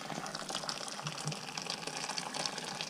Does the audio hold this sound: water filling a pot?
yes